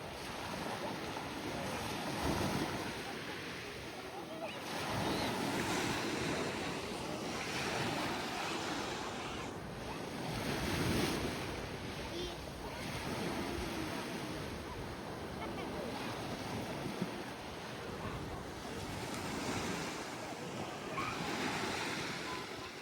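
Mediterranean Sea waves breaking on the shore in repeated surges every few seconds, with a steady wash of surf and wind noise in between and a large ship passing offshore.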